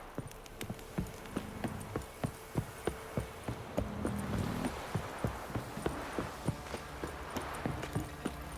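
Steady clip-clop of horse hooves at a walking pace, regular and fairly close, over a low background hum, from the video game The Witcher 3: Wild Hunt.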